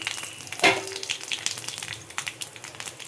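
Mustard seeds and cumin tempering in hot oil in a kadai, a steady close crackling sizzle with a sharp pop of spattering near the start, no voices.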